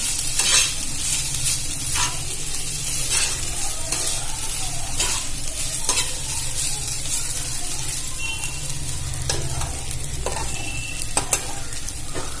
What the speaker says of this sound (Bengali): আমি এগুলো ভালো করে এর সাথে মিক্স করে নেব।